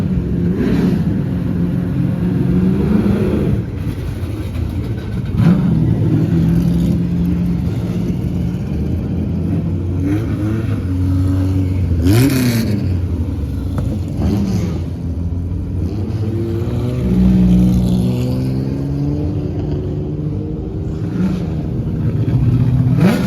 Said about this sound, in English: looks like a little Can-Am car being bump start here. It's a Lola.